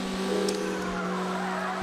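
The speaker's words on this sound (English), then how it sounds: "Drifting into the next turn." A car drifting through a turn in a PS2 racing game, with a steady engine drone and a sustained tire squeal skidding under it.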